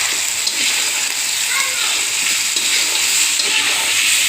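Fried chicken pieces are stir-fried in a chowmein pan with egg and mushrooms, producing a loud, continuous sizzle with faint stirring and light splatter, and a voice is heard softly underneath.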